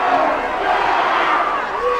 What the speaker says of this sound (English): The crowd hadn't even gotten done cheering for the last play.